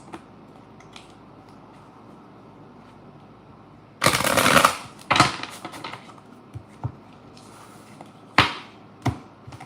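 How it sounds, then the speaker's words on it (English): Tarot cards shuffled by hand during a live reading: quiet room, then a dense burst of riffling, followed by several short, sharp card snaps and taps spaced irregularly, close and fairly loud. "I'm going to shuffle again because get that energy out."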